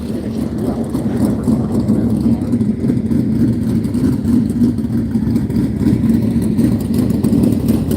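Outlaw sprint car engines rumble at the I-37 dirt speedway in Texas as cars roll out, a loud, steady low roar that fills the whole stretch with no break.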